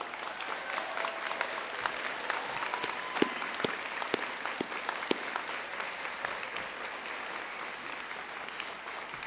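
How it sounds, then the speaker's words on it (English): Steady applause from a graduation ceremony audience honoring instructors and staff, a sustained crowd of clapping with a few sharp, louder claps standing out over nine seconds. "Let's give our instructors and staff a round of applause"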